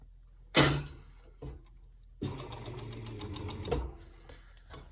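A sewing machine stitches a child's sweatsuit collar, first in a couple of short bursts and then in a sustained, evenly rattling run, close and moderately quiet.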